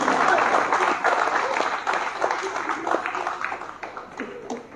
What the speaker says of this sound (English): Come on, give him a big round of applause.